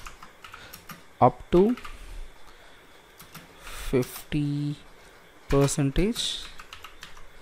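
Keys tapped on a computer keyboard in short bursts of quick clicks separated by pauses, close and fairly crisp, with someone speaking between and over the typing.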